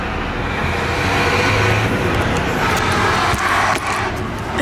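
Loud trucks roaring past on a road beside a construction site, a continuous close, heavy traffic rumble that swells and fades with no talking.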